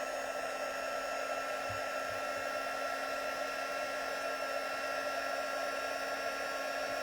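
A heat tool blowing hot air to set stamped embossing on a card, a steady close whooshing hum that runs unbroken and even throughout, with no talk over it.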